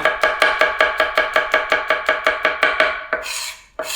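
A knife chops garlic cloves on a cutting board in rapid, even strokes, about four per second, close and crisp, then the rhythm stops and a short scraping follows.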